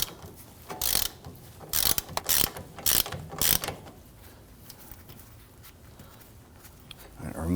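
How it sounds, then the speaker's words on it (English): A ratchet clicks in several short rapid bursts while loosening and removing a bolt near the CV axle on a 2013-2019 Ford Explorer Interceptor rear brake, then falls quiet with faint background noise. "Now this bolt, I'm just going to loosen and remove."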